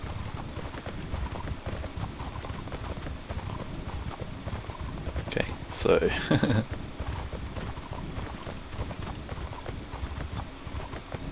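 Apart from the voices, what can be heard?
horse hooves clip-clopping in the video game Mortal Online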